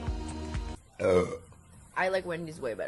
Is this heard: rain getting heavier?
no